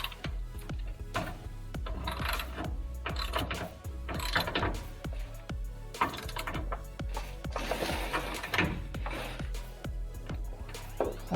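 Bolts being tightened with a ratchet, a rapid run of close, sharp metallic clicks and ratcheting strokes repeating through the whole stretch at steady loudness, with no talking over it.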